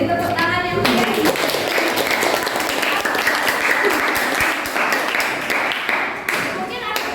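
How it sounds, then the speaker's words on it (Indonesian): Audience applause at a classroom group presentation, a dense, steady wash of clapping that stays loud and close for the whole stretch, with a voice speaking briefly at the start. "beri tepuk tangan yang meriah"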